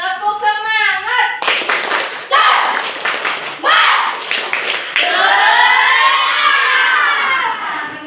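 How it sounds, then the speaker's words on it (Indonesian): Schoolchildren in a classroom chant and clap in a rhythmic spirit cheer, with bursts of sharp group claps and shouted syllables after an adult voice leads in, ending in a long drawn-out shout. "Ayo kita tepuk semangat dulu yuk."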